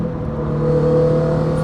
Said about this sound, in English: So you can kind of hear the exhaust like a pretty good amount with the valves closed